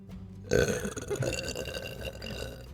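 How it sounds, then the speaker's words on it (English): A single long, wet-sounding burp comes in abruptly and rumbles on for about two seconds, close and fairly loud. "Why do your burps always sound wet?"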